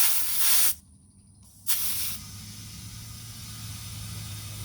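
Compressed air hissing from a lengthened air hose out by an old Oldsmobile, a steady broadband spray that cuts out briefly, bursts back on, then settles into a lower continuous hiss.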